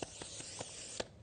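Short hissing bursts of cooking oil spray from a can, about five quick spritzes at uneven intervals, close and fairly soft, with no talking.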